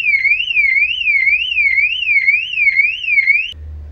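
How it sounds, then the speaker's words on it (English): A motorcycle security alarm set off by a kick wails loudly and close in a rapid rising-and-falling electronic warble, repeating evenly for several seconds before cutting off abruptly. "I'm sorry about activating that alarm"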